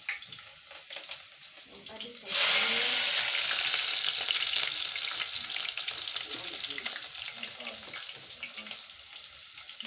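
Onions dropped into hot cooking oil burst into a loud sizzle after a quieter start, then a steady close frying hiss that slowly eases, with no talk over it.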